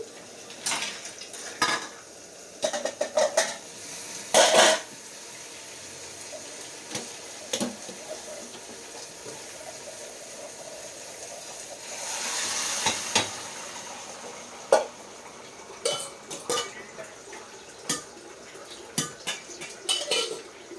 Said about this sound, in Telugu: వేయించుకున్న ఉల్లిపాయల్లో ఈ పప్పుని వేసి ఒకసారి బాగా మిక్స్ చేసి